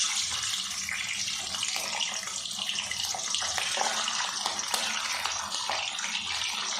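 Fish pieces frying one by one in hot oil give off a continuous, loud crackling sizzle with a dense, hissing texture and occasional sharper pops, steady throughout without any talking.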